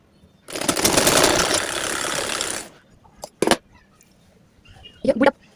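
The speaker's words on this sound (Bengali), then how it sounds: "এই সেম ভাবে আরেকটা অংশ সেলাই করে নিচ্ছি।" Sewing machine stitching a shoulder seam of a 53-inch burqa, a steady dense whirring run of about two seconds, close and fairly loud, followed by a few short separate bursts.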